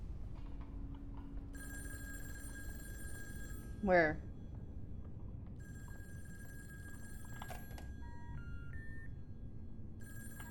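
Telephone ringing inside the horror video game In Sound Mind, a faint repeating bell tone heard across much of the clip under game ambience, with a brief spoken line.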